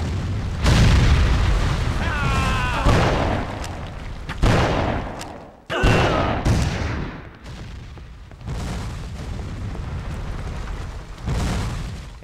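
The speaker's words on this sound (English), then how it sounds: "Throw a grenade instead." A grenade explosion in the PS2 video game History: Civil War, with heavy booms and bursts among gunfire and game sounds, while someone talks over parts of it.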